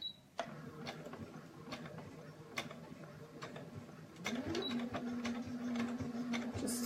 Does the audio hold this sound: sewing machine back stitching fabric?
yes